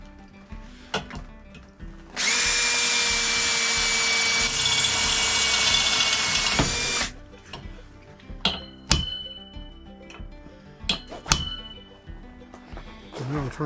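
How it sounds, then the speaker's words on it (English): Power drill bores holes while wiring a temporary shelter, a loud steady whine lasting about five seconds, surrounded by sharp metallic clanks and taps of tools being handled. "I'm going to try and drill this out."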